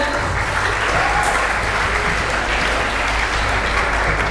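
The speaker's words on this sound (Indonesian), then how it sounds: "Tepuk tangan dong buat kalian." A school audience gives a full round of applause at a seminar at SMAI Al Azhar 1, a dense, steady wash of many hands clapping that stays loud throughout, with no talk over it.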